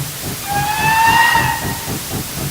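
A steam train lets off steam in a loud, close, continuous hiss, with a whistling tone rising and holding through the middle of the short burst.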